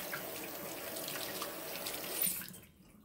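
Running water pours from a sink tap while hands are washed beneath it, a steady close splashing hiss that cuts off near the end.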